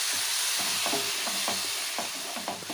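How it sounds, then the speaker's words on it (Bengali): Tamarind pulp being stirred into fried spices in a pan, a steady hiss of frying under a series of rhythmic spatula scrapes, close and continuous, no voices. "এখন আমি তেঁতুলের কাইটটাকে এর মধ্যে দিয়ে দিলাম। দেওয়ার পর এটাকে একটু মিশিয়ে দিচ্ছি"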